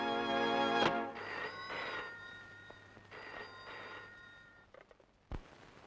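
A telephone rings with a bright repeating bell tone in a few bursts, fairly loud and close, then stops before a short thump.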